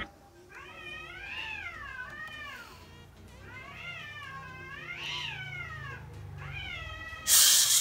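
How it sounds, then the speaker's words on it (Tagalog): Several cats fight indoors, trading drawn-out rising and falling meows and caterwauls in repeated bursts, with a loud burst of noise at the very end. "May pusa na nag-aaway."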